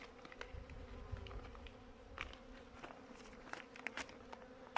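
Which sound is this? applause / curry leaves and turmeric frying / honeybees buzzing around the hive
honeybees buzzing around the hive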